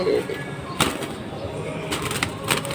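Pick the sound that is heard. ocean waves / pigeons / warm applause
pigeons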